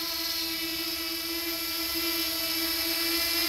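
DJI Mavic Mini drone hovering close by at low altitude, a steady, loud high-pitched propeller whine with a constant tone throughout.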